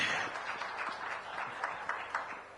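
An audience bursts into applause at the INH-Haribhoomi Health Conclave 2025 in Chhattisgarh, with dense, steady clapping from many hands filling the hall throughout.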